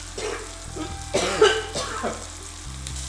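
Chili peppers, including Carolina Reaper, hitting hot oil for a tropical curry, bursting into a loud crackling sizzle midway after quieter stirring sounds, with coughing and throat clearing from the pungent fumes nearby.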